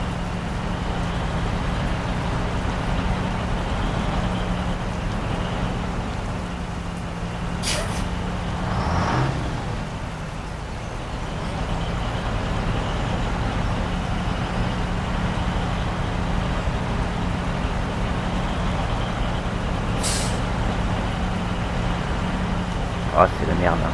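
A truck in the SnowRunner video game strains forward slowly in hard mode, its engine labouring as a low, steady drone throughout, with occasional brief sharp bursts and a voice talking faintly alongside.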